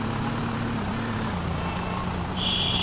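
A bus drives along in a mobile video game, a steady droning engine hum with constant road rumble and a high electronic whine, an added tone rising near the end, continuous and without voices.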